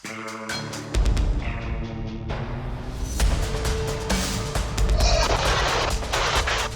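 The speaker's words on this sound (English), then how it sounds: "A doorbell camera captured the exact moment of a deadly explosion in Evansville, Indiana." A deadly explosion in a residential street in Evansville, Indiana, recorded by a doorbell camera, comes as a sudden loud blast followed by sustained crashing and rumbling debris noise.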